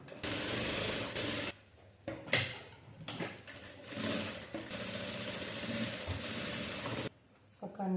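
A sewing machine stitching a dart on a saree blouse, running in long loud mechanical bursts with short pauses between them and a rapid rattling rhythm close by.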